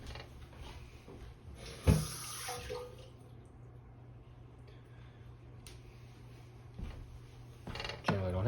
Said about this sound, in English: I'm gonna rinse them.